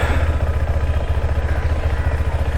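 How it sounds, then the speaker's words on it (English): A KTM Adventure 390 single-cylinder motorcycle engine thumps in a fast, even pulsing rhythm while being ridden near an off-road trail in an industrial area, close and steady with light wind noise. "here we are riding the Adventure 390."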